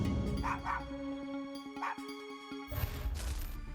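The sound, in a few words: dogs barking and yelping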